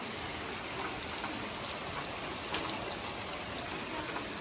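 Heavy stormy rain pours down steadily as a dense, continuous hiss of drops striking surfaces, loud and close, with no speech over it.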